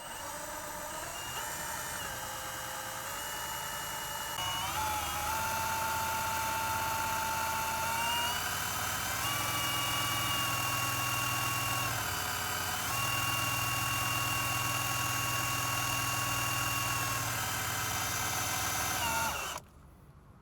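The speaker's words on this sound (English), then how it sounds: "you are extending the cylinders by manually operating these pumps" A steady, loud mechanical whine and drone with layered tonal harmonics comes from manually operated hydraulic pumps on an ATC vehicle, holding level for about nineteen seconds before cutting off abruptly.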